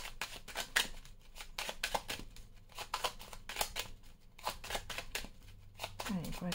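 Tarot cards are shuffled and spread out in repeated quick riffling bursts with short pauses between them, close and crisp, while someone talks over them.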